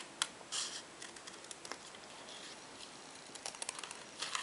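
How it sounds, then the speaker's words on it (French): Scissors snip roughly around a stamped paper motif while making a card, giving quiet, irregular clicks and short cutting bursts up close in a hushed room. "venir découper grossièrement l'entourage de votre motif pour ensuite avoir plus d'aisance pour découper le dessin"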